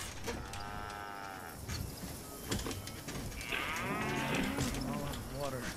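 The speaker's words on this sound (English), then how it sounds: "Ride mechanical Bucking Brahmin ride." Drawn-out cow moos from a mechanical Bucking Brahmin ride in Fallout 76, two long lowing calls over a busy game background with clatter, the second louder and rising.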